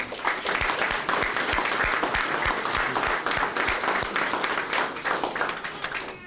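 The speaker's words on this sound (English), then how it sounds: "Give them a round of applause, please" An audience at a fire department awards ceremony claps for the award winners, a full round of applause with a few sharper, distinct claps standing out near the listener throughout.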